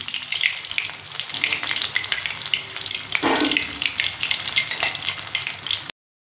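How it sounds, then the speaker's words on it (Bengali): Crispy chicken pieces deep-frying in hot oil give off a steady, dense sizzle and bubbling hiss, loud and close, running without a break for about six seconds before stopping abruptly. "তো একইভাবে সবগুলো ভেজে নিয়ে আমি ফিরে আসছি।"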